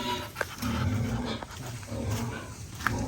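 A hungry dog makes low rough vocal sounds, a few short barks or whines close by over steady outdoor background noise.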